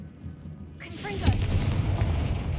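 A Confringo explosive spell from the Hogwarts Legacy video game bursts with a sudden, loud boom, followed by a sustained rumbling roar that keeps going to the end.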